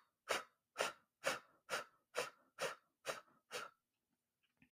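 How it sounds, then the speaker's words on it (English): Breath of fire breathing: eight short, rapid, forceful exhales pushed from the diaphragm in an even rhythm, each a sharp close puff of air, followed by near silence. "when you breathe out, you're breathing out short, rapid spurts, pushing the air out through your stomach and your diaphragm"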